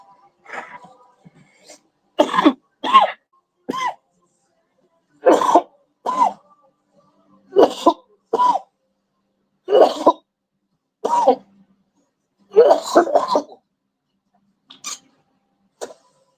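A person coughs repeatedly in short, close bursts separated by pauses, with a few softer throat-clearing sounds.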